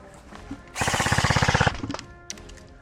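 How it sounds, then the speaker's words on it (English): A rapid burst of airsoft gunfire, roughly twenty closely spaced shots in a steady run, loud and near, during an airsoft game in a war-zone setting. "Ibro is shooting."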